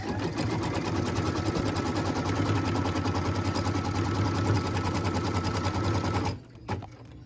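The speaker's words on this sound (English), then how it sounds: "What we're stitching now is a cut line in order to put piece number 13 into our block" An embroidery machine stitches a cut line on a quilt block held in a hoop, a fast steady mechanical whirring with rapid needle rhythm that runs continuously, then stops abruptly near the end.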